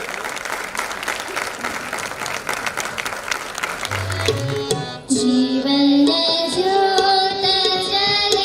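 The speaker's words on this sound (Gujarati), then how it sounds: "આપણે જોરદાર તાળીઓથી તેમને વધાવીએ." An audience applauds loudly to welcome guests at a teacher-honouring event. The steady clapping carries on until music with held tones rises about halfway through, and the applause continues beneath it.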